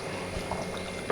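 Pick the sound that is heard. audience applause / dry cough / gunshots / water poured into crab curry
water poured into crab curry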